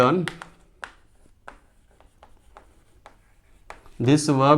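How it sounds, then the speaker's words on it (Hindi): Marker or chalk strokes on a board during a physics lecture on electrostatic potential energy, a series of short, sharp scratches spaced through a quiet stretch, with someone talking briefly before and after. "तो यहाँ लिख रहा हूँ, दिस वर्क"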